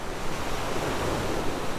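Ocean surf breaks in the nearshore zone close to the beach, a dense continuous wash of roaring water with no distinct pauses and no voices.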